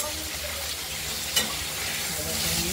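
Vegetable stalks sizzle in hot oil in a pan, a steady close frying hiss with a brief sharp crackle midway, and quieter stirring scrapes and bubbling beneath.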